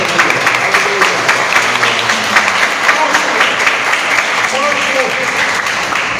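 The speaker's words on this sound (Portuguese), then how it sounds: "Aplauda Jesus, porque ele merece" A Pentecostal church congregation claps steadily in praise during a service, dense applause that fills the room at a loud, even level, with voices mixed in.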